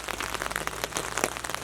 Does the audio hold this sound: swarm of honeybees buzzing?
no